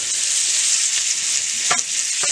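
A pork loin browning in a hot pan gives a loud, continuous close sizzle, with a couple of brief clatters as it is turned over.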